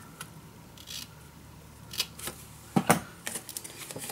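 Paper being cut with scissors for an Alice in Wonderland mini album, heard as a few crisp, close snips and rustles, with sharper clustered cuts near the end of an otherwise quiet stretch.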